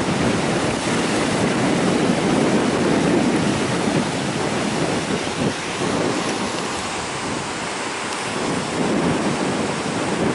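Sea waves crash against a rocky hillside and surge into a large sea cave near Ratnagiri, a continuous heavy roar of surf and spray, loud and steady with no voices.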